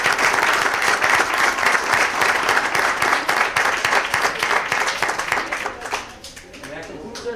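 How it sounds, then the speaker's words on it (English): Applause from the audience at a Dunkirk, NY Common Council meeting ceremony, steady dense clapping for about six seconds before thinning out, with a voice briefly heard under it. "Round of applause for them for being here"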